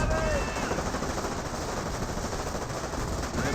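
Suppressive-fire machine-gun bursts aimed at Rangers in Company of Heroes, a continuous loud rattle of rapid gunfire with a steady dense texture from start to end, and faint commentary underneath.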